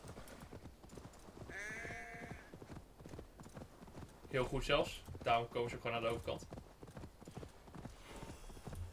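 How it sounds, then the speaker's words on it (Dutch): Horse hooves clip-clop steadily in Assassin's Creed Valhalla, the rhythmic thuds growing louder midway, accompanied by someone talking throughout. "Gelukkig kan mijn paard tegenwoordig ook zwemmen."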